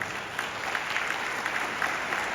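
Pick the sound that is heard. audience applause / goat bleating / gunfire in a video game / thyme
audience applause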